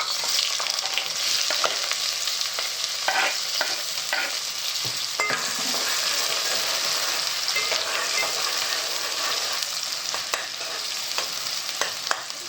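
Onion frying in oil as the base for a prawn curry: continuous bright sizzle with irregular spatula stirring scrapes, close and fairly loud, no talking.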